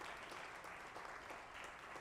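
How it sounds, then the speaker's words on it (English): Steady applause from a crowd at India Mobile Congress 2022, a dense even clatter of clapping hands sustained throughout without pause. "Give a big round of applause for the Member Finance"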